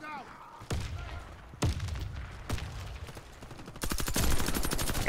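A G36 rifle fires in the online shooter Warface: a few spaced single shots, then a rapid automatic burst near the end, close and sharp under light game ambience.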